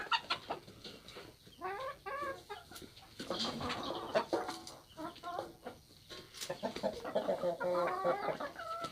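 A small bantam hen clucks in a flock of mixed-breed chickens, with repeated busy clucks and chatter from several birds close by, mostly continuous and moderately loud.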